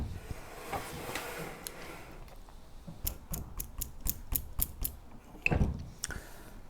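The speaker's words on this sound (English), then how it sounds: "I'm going to move the fence over to 18 millimeters." A table saw fence is slid and adjusted, producing a quick run of evenly spaced, sharp ratcheting clicks, then a heavier clunk as it settles, close and without talking.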